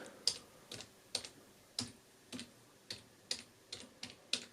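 Typing on a computer keyboard to enter a search term, about nine distinct clicking keystrokes in an uneven rhythm, fairly faint and close, with no voices.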